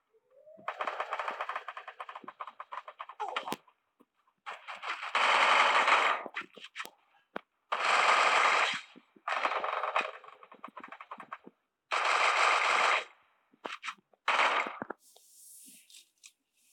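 Rapid automatic gunfire from the Free Fire video game rattles out in several separate bursts with short gaps between them, crisp and prominent with no talk over it.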